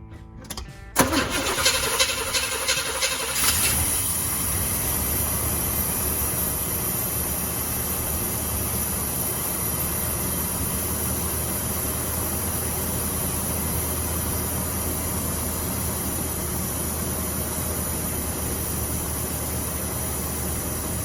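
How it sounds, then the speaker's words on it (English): A Chevy square body crew cab V8 cranks with a quick rhythmic starter churn for a few seconds, catches, and settles into a loud, steady rumbling run that continues evenly to the end, with no talking. "With any luck, I got my firing order right, and it should fire up."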